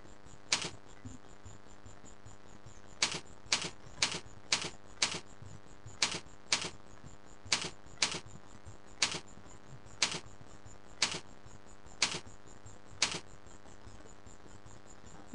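A computer keyboard in use for accounting software, with sharp, isolated key clicks spaced about half a second to a second apart against a quiet, faintly hissing background.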